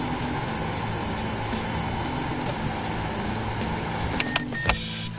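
Front blower motor fan running inside a Mazda 5 minivan, a steady whooshing hum with airflow, then a few sharp clicks near the end, with no speech.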